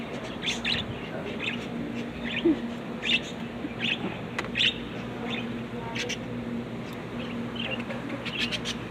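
Pet birds chirp and call indoors in short, repeated bursts throughout, fairly close, over a steady low hum, with occasional soft cooing.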